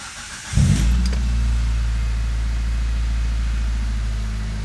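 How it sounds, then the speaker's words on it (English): A 2004 Mitsubishi CH Lancer with a custom exhaust fires up and holds a loud, steady, deep drone close by, staying strong throughout with no voices. "let's go get it set up and see how loud these pipes are"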